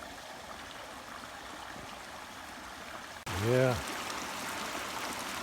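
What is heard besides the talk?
water flowing through a culvert past roots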